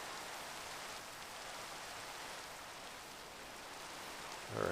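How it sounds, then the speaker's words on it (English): Steady rain falling in a blocky sandbox video game, a constant soft hiss that fills the whole clip at even loudness, with a slight swell at the very end. "Now it's raining, because that makes everything better."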